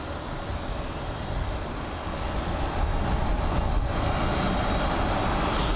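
Jet airliner taxiing at London Heathrow, a continuous dull engine roar and whine, steady and somewhat distant, holding at an even level throughout with no voices.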